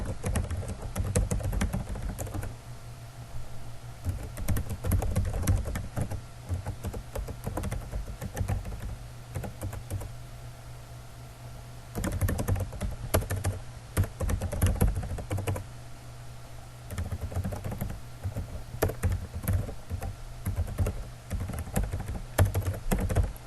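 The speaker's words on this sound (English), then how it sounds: "So I'll just go ahead and type mine real quick." Fast, close typing on a computer keyboard carries on throughout in uneven bursts of key clatter, with short pauses between runs and no voices.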